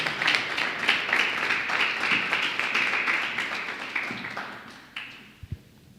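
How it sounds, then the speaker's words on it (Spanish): A church congregation applauds during a sermon, with dense clapping that gradually thins and fades out, leaving a few last scattered claps. "Merece un lindo aplauso eso, ¿verdad?"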